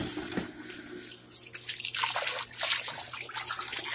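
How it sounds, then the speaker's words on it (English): Water pours out of a Della 30-pound portable washing machine as it drains, starting with a few trickles and then building into a steady, close splashing flow. "So I'm finna drain."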